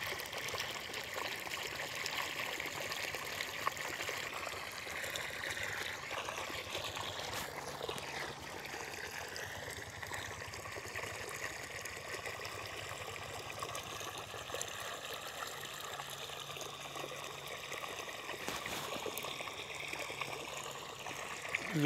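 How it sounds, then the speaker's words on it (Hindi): Water trickling and streaming steadily into a field of Katarni paddy rice, a continuous close, moderate flow with faint background hum and no talk. "इसको रोज शाम को पानी डाला जाता है।"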